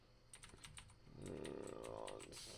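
Rapid clicking of keys on a computer keyboard, close and fairly quiet, with a low hum rising underneath partway through.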